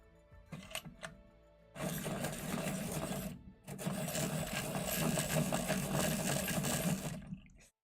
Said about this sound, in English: Alright, we're just gonna give this a quick sharpen here.